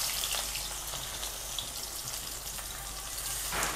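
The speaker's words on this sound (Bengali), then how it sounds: "তেল গরম হয়ে গেছে, এবার আমি তেজপাতা দিয়ে দেবো।" A bay leaf sizzles in hot oil in a pan, giving a steady, crackling fry hiss heard alone, with a brief louder surge of sizzle at the end.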